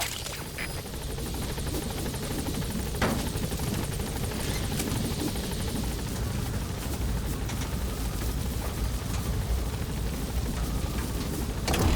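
Helicopter in the video game Metal Gear Solid V lifting off, a steady loud rotor roar with dense low thudding that holds throughout, no talk.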